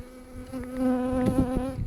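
Honeybees buzz around a hive, a close, steady drone with several individual bees swelling louder as they pass near.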